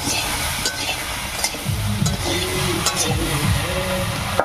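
Chopped bottle gourd is stirred with turmeric and salt in a hot pan, giving a continuous close sizzle with rhythmic scrapes and shuffles of the spatula.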